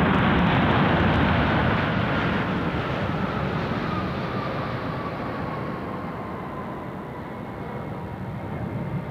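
Airliner jet engines at Chicago O'Hare airport give a steady, broad roar that stays loud throughout and eases off slightly toward the end, with no voices.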